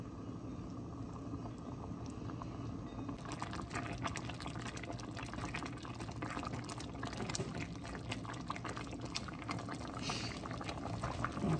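Balsamic onion jam comes to a hard boil in a pot, a soft, steady bubbling and popping that grows busier partway through, heard alone at low volume.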